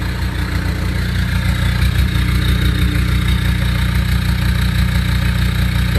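Toyota Innova with a 2KD diesel engine idling, its exhaust giving a loud, steady, close-up low rumble with a constant mechanical clatter and no pauses.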